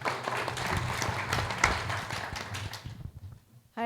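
Audience applause after a speaker is introduced at a venture capital panel event: brisk, close clapping for about three seconds that cuts off abruptly into quiet.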